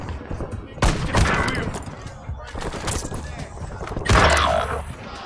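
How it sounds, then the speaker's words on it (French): Gunfire in a first-person video game, with sharp bursts of shots, one loud crack early and a heavier burst near the end, over constant rumbling battle noise and mechanical clatter. "Je subis des tirs."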